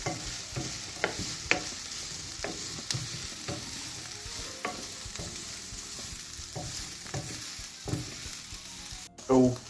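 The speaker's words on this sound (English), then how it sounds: "the sausages and salami are almost done. Same for the onions, although they could use a bit more time" Sausages, salami and onions frying in a pan, a constant close sizzle broken by regular scraping and tapping of a utensil stirring, with a louder clatter at the very end.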